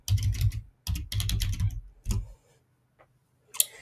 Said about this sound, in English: you can type in the URL ak.ms/theme-designer.